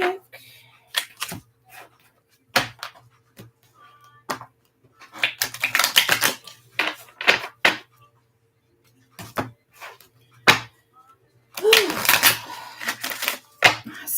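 Tarot cards shuffled in quick irregular bursts of riffling and slapping, with short pauses between flurries, close and fairly crisp, with some faint voice in places.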